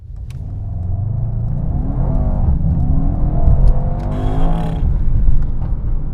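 A 2021 Mercedes-AMG E63S wagon with 600 hp accelerates hard, its engine rumbling and rising in pitch as revs climb, with tyre and road roar underneath; no voices.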